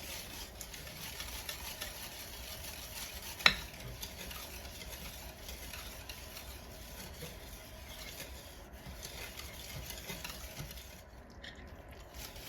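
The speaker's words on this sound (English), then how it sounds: "Stir from the bottom of that pot." Caramel frosting stirred in a pot, a soft continuous scraping and swishing along the bottom, steady and fairly quiet throughout with one sharp click early on, no voices.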